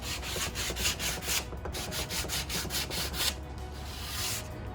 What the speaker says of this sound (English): So I'm just gonna give it a little sand